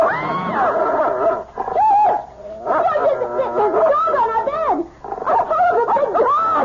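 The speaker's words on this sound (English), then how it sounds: "It's only a dog" A dog whines and yelps in an old-time radio drama, with a close run of high, wavering whimpers and short yips broken by brief pauses over several seconds.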